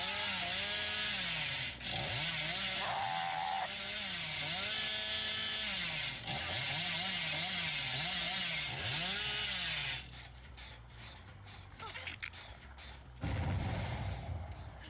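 The Hillbilly's chainsaw revving in the video game Dead by Daylight, a buzzing motor that rises and falls in repeated surges for about ten seconds before cutting off into scuffling game noises and a brief thud.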